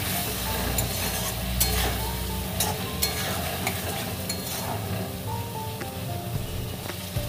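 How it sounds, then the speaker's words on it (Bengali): Spice paste with chopped tomatoes, slit green chillies and salt fries and gets stirred in a pan for a Bengali fish curry. Continuous soft sizzling is broken by scraping clicks of the stirring spoon. "দেবো এতে কেটে রাখা টমেটো, দেবো সামান্য নুন, দিয়ে ভালো করে মশলাটা আবারও কষিয়ে নেব।"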